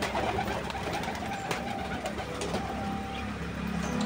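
Pigeons coo softly outdoors at feeding time, with a steady background hum that sounds like a distant engine.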